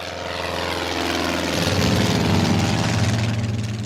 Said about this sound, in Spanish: el Oster volvió a despegar, esta vez con uno de los aviones estadounidenses